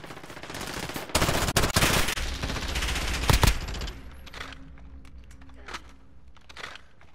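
Rapid automatic gunfire in Call of Duty Modern Warfare, loud bursts of shots up close followed by fainter scattered firing and game effects, with a voice talking over it.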